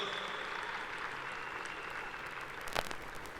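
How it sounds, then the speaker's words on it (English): A choir's audience claps steadily throughout, a dense even wash of applause with a brief louder burst near the end. "Give this choir a great round of applause."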